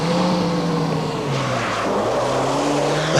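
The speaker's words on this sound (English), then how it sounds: "the Volvo is not the most ideal of rally cars to have, but here we have one" A 1985 Volvo Group B rally car drives hard through a corner at the Hellendoorn rally, its engine loud and close with a steady, changing revving pitch that rises and falls across the stretch.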